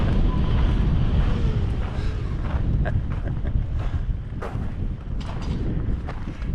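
Strong 20 mph wind buffets the microphone at a reservoir, a loud continuous low rumble and roar with gusty swells throughout and a few faint knocks, no talking.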